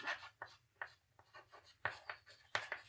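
Pen scratching across paper while math is written out for a class 10 lesson, short strokes in irregular bursts, close and fairly quiet, with a low hum underneath and no speech.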